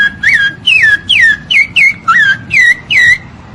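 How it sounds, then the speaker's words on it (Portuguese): Clear, loud whistled phrases of a rufous-bellied thrush (sabiá-laranjeira) sound alone, about eight short sliding notes in a steady rhythm with brief gaps between them. "O canto da Sabiá Laranjeira."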